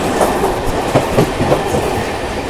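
A nearly empty Dankuni local train on the Bardhaman–Howrah chord line rolls along the tracks with a rhythmic clickety-clack of wheels over rail joints, close and steady, no voices.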